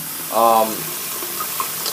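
Water runs steadily over a Sony Xperia V phone during a waterproof test. The hiss stays even throughout, and a voice is heard briefly near the start.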